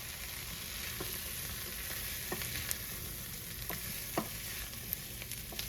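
Okra and potatoes cooking in a pot for a chowder, giving a steady soft sizzle and bubbling with a few light stirring clicks and knocks scattered throughout, no voices.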